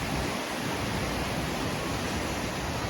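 Water rushes steadily at Anayadikuthu Waterfalls near Thodupuzha in Idukki, a dense, even roar with no breaks and no one speaking.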